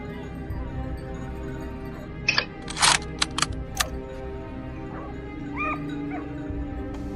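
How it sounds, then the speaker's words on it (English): Hunting dogs bark and yip in short bursts while driving a herd of wild boar uphill on a slope, the calls rising out of a steady outdoor background, some sharp and close, others fainter. "As the barking grew louder,"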